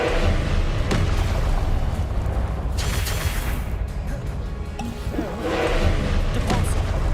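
A Depulso spell cast in a Harry Potter-style video game: heavy booming thuds and crashing impacts over a dense rumbling background, with a couple of sharper bursts.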